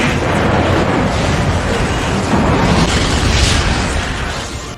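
A loud, sustained rumbling underground explosion that roars continuously for several seconds, dense and booming without any talk.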